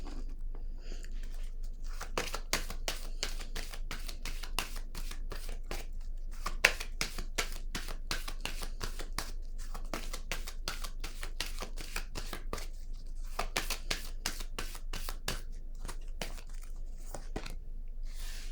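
Tarot-style deck of cards being shuffled, with fast, dense riffling and flicking that continues near and steady throughout.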